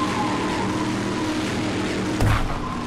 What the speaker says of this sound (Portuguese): Meu carro só faz barulho